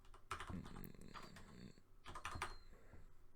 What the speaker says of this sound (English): Sorry if my typing is rubbish, but my microphone is like huge